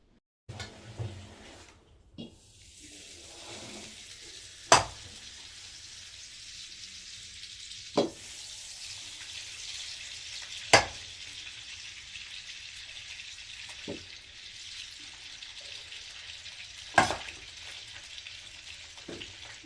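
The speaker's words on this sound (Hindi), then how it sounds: "मेरी माँ यहाँ पे निकाल रही है घी" Ghee being cooked and stirred in a pan at home, a faint, steady sizzle with occasional sharp clinks of a spoon against the pan spaced several seconds apart.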